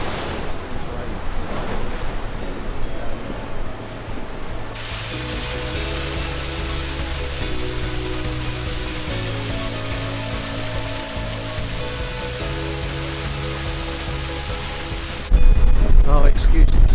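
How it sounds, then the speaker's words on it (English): Gale-force wind on Vikten Beach in Lofoten roars straight into the microphone, a loud continuous rumbling buffet with surf underneath, swelling sharply at the end. "It's blowing a gale, you probably can't hear me very well given the wind that's coming in over the microphone"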